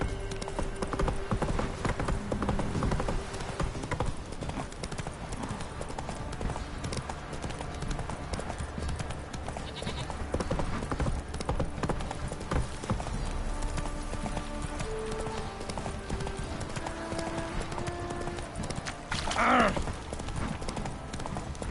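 Roach the horse galloping in The Witcher 3, rapid rhythmic clip-clop of hooves close by and fairly loud for the whole stretch, with a brief whinny near the end and occasional game sounds beneath.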